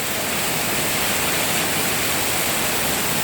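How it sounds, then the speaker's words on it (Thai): A steady, loud rush of rainwater flooding across a road pours and hisses continuously, like a heavy flow streaming across a surface, with no voices. "เฮ้ยน้ำไหลเต็มถนนเลย"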